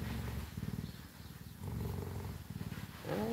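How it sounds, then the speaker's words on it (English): A cheetah purrs up close in a steady, rhythmic rumble of alternating breaths, quiet and continuous, with a brief higher squeak at the end. "feel the vibration of the purring"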